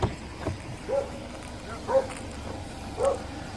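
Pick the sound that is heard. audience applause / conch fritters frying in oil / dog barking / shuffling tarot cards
dog barking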